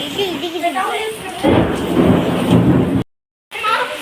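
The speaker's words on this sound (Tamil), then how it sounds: "செம்ம மழை காய் பாருங்களேன்" Heavy rain pours down on a house whose roof is letting water in, a dense steady roar with a louder surge midway and rumbling like distant thunder, briefly cutting out near the end; voices and children are faintly mixed in.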